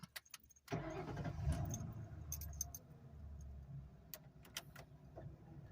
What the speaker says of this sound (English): let's go ahead and start the Crown Victoria up